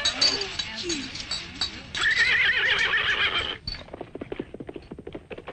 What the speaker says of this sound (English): Roy, someone just stole your horse.